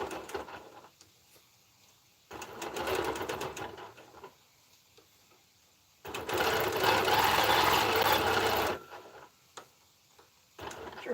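A quilting machine stitches a quilt in two loud, rapid rattling runs separated by pauses, with a brief restart at the end.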